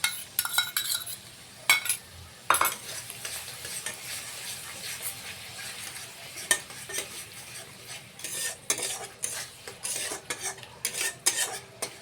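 Katla fish kalia with whipped yogurt being stir-fried in a pan: steady sizzling under repeated quick spatula scrapes and clinks against the metal, close and busy, with no talk.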